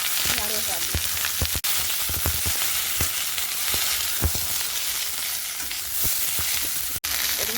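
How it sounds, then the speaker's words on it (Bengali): Sliced okra and potato frying in hot oil with onion and green chilli, a loud continuous sizzle broken by sharp spatula stirs and clinks, with no talking. "পেঁয়াজ কাঁচা লঙ্কা তেলে দিয়েছি, এর মধ্যে দিয়ে দেবো কেটে দিয়ে রাখা ঢেঁড়স আলু।"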